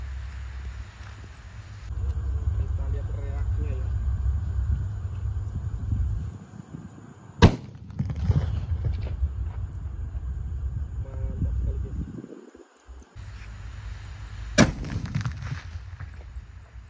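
Two sharp, loud bangs from a King Banaspati firecracker set off in flour go off several seconds apart over a steady low rumble of wind and outdoor noise.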